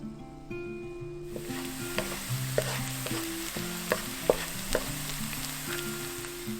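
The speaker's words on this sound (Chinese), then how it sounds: "再倒入植物油，放入姜末跟干香菇炒至焦黄" Ginger and dried shiitake mushrooms fry steadily in vegetable oil in a wok, a soft continuous sizzle with occasional sharp utensil taps and stirring scrapes, close and without talk, under a tonal musical backing.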